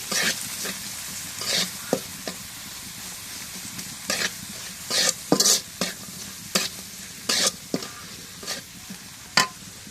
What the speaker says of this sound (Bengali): রসুন ছেঁচা আর শুটকি, তেলের মধ্যে দিয়ে দিই।